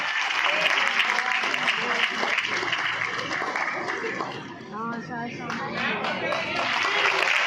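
Audience clapping at a school annual day, sustained and dense over crowd chatter, with voices talking through the applause.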